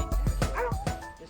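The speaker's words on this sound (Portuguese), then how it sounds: "Ser puxado por 10 cachorros numa montanha de gelo é impressionante." Several sled dogs in snowy Alaskan mountains bark and yip in a rapid, overlapping series of sharp calls close by, with no talk over them.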